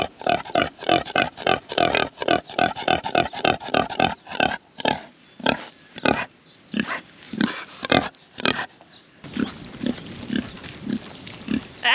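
Pigs grunt and oink in a rapid rhythmic series, loud and close, slowing into spaced grunts toward the end.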